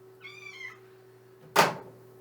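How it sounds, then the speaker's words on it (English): A cat gives a single clear meow, harmonic and fairly close, followed by a sharp thump after a short pause, over a steady low electrical hum. "Luna the Math Cat wants to say hello to everybody."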